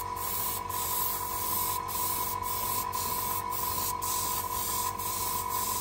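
Red paint hisses from a spray can onto a sci-fi model, a continuous close spray with small regular pulses and no talk.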